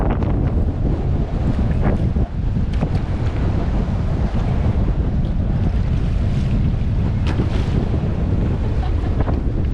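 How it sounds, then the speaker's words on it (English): Strong wind buffets the microphone aboard a boat on Lake Awoonga, a loud, constant roar with gusty swells and water slapping beneath it, no voices. "Have a go at this wind."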